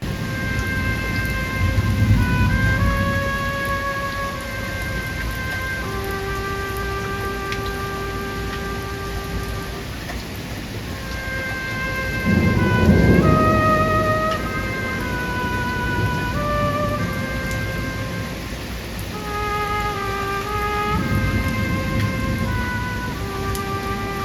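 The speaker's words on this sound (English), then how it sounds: "I'll have to fucking wait until the wind and rain dies down" A thunderstorm with wind and rain: a steady rain hiss runs throughout, broken by three deep rumbling swells of thunder, while a sustained tonal hum sits underneath.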